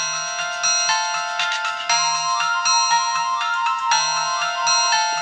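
A phone ringtone melody of bright electronic chiming notes repeating in a steady looping pattern with a soft pulsing tick underneath, loud and close with no voices.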